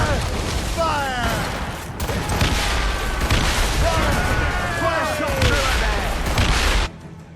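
Ship cannons fire in repeated, heavy volleys during a naval battle in Assassin's Creed Rogue. The booms are loud and close, with voices shouting over the barrage before it cuts off near the end.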